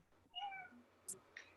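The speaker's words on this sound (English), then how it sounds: "Did your kitty come?" A cat meows clearly a couple of times, close by, in a quiet room, with a brief woman's greeting heard softly.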